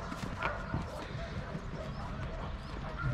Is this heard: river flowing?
no